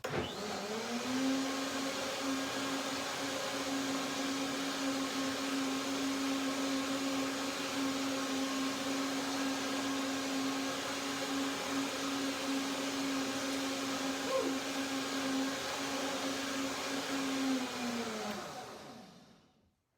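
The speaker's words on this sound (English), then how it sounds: "And now I can blend a little bit longer." A blender motor whirs steadily at high speed blending cashews and water into cashew milk for a long stretch, then winds down and stops at the end.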